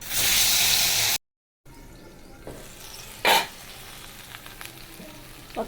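Vegetables and a few prawns coated in salt and turmeric fry in hot oil in a wok, a loud sizzle that cuts off, then quieter frying with occasional stirring clatters and scrapes.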